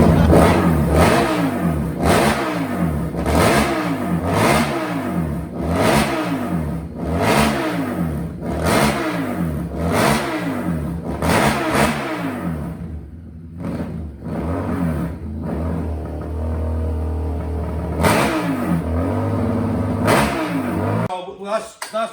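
A race-spec Harley-Davidson Street 750 motorcycle engine revs repeatedly in loud, rhythmic bursts, roughly every second, then drops to a rougher lower idle before a final sharp blip, all close to the microphone with no talk.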